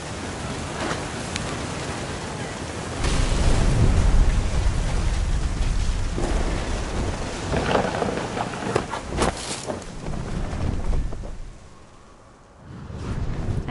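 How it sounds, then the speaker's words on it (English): A thunderstorm in the video game What Remains of Edith Finch, with steady rain hissing and heavy thunder rolling in close, swelling and fading over broadband noise, with no voices. "Thunder sounded much too close and full of angry power."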